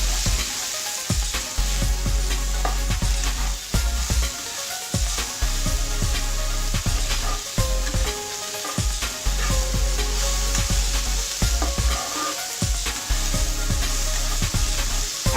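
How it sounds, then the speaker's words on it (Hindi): Shredded cabbage with gram flour sizzles steadily in a hot pan while a spoon stirs it, scraping and clacking at irregular intervals over a continuous frying hiss, close and fairly loud. "और इसमें अब हम पत्ता गोभी डालेंगे, और इसे मिक्स कर लेंगे।"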